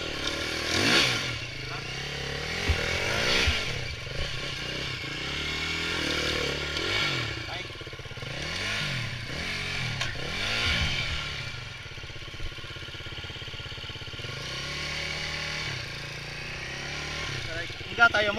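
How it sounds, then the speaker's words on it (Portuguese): Dirt bike engine revving in repeated rising bursts at a motocross track event, fairly close, with people talking throughout. "já está aí a moto, Fábio?"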